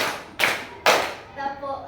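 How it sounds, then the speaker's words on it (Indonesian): Two sharp hand claps about half a second apart, part of a counted clapping routine, followed by faint background voices. "Tepuk 1, tepuk 2, tepuk 3,"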